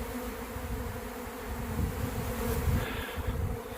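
A honey bee swarm pours out of a box, its dense buzzing hum steady and close throughout, swelling slightly toward the end, with no voices.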